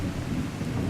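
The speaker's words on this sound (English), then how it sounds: "Look at the rain." Rain and thunder from the video game Skyrim roll together in a dense, steady wash, with a low rumble under the continuous downpour and no talking.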